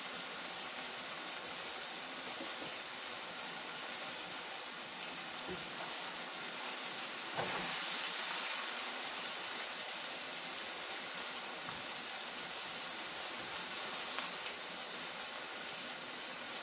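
Tomato frying in a pan for Jamaican ackee and saltfish, a steady broadband sizzle and hiss that runs faintly throughout, with a brief louder spurt partway through and a person talking intermittently over it.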